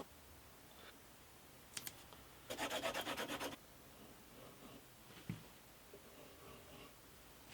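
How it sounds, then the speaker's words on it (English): Masking tape burnished onto an acoustic guitar body, a quiet close rubbing with a short burst of rapid rhythmic scraping strokes and a few light clicks and knocks, otherwise faint. "Burnish the masking tape down to make sure it doesn't budge."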